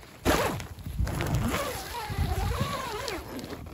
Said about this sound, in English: Right here, I'll show you guys the zipper.